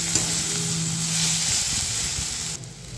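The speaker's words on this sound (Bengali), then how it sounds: "এখানে আমার ডাল তরকার মশলা রেডি হচ্ছে" Spices for dal curry sizzle and fry in a pan with a loud, steady crackling hiss, stirred now and then, close up, with the sound dropping slightly near the end.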